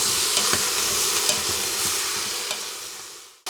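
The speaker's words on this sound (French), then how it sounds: "Je laisse cuire environ 5 minutes en remuant régulièrement pour que le poireau grille et fonde également." Washed leeks frying in a pot as they are stirred, a steady bright sizzle with soft scraping strokes of the spoon, close and continuous until it cuts off abruptly at the end.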